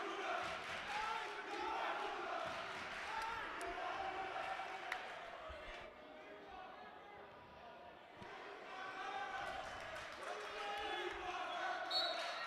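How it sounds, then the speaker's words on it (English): Home crowd at a high school prep championship basketball game between Blair Academy and St. Benedict's Prep, a steady roar of cheering and yelling filling a gym, with play-by-play commentary running over it throughout. "The home crowd getting into it now"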